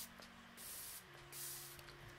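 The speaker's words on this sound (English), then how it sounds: "I'll just give my cheeks an extra little spray." A fine, soft makeup setting spray from a GlamGlow GlowSetter bottle mists in two short, quiet hisses close by, over a low steady background hum.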